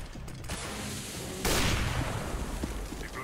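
Gunfire in the video game CS:GO: a sharp broadband shot near the start and a louder blast partway through, followed by a noisy rattling tail over steady game background, with no speech.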